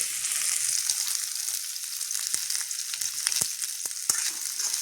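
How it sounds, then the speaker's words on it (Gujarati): Spiny gourd (kantola) sabzi with a little salt sizzling steadily in a pan, a close, even hiss of frying with faint scattered pops and stirring clicks. "આપણે હવે એને ઘડીક કકડાવા દઈએ."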